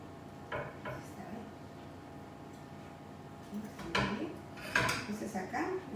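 Peruvian roast chicken is flipped in a pan, bringing a few clattering metal knocks and utensil clinks against a soft kitchen background, loudest near the end.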